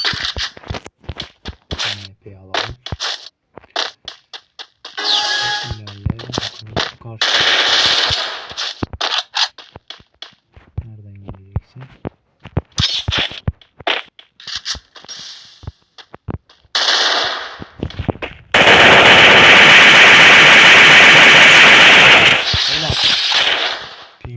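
Rapid bursts of automatic gunfire and single shots from the Free Fire mobile shooter game, loud and close, with footsteps and a long sustained noisy blast near the end.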